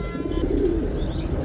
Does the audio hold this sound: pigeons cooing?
yes